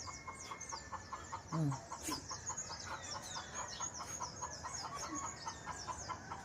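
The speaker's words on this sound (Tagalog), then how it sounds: "Ang ingay ng mga manok." Chickens cluck close by, with a sharper squawk near the middle, while small birds chirp steadily in the background.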